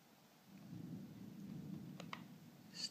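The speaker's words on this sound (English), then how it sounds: "It's thundering outside right now." Thunder from a storm outside, heard faintly from indoors as a low, rolling rumble that swells and holds, with a few light clicks near the end.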